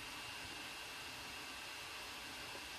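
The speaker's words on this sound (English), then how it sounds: "now you can see the fans idling down" Steady broadband fan whir with a faint high whine, constant and fairly quiet, as a Dell Inspiron 7577 laptop's cooling fans spin down, with no other sounds.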